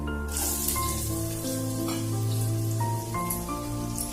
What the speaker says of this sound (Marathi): आपण असा आवाज ऐकू शकता आपली फोडणी चांगली तडतडलेली आहे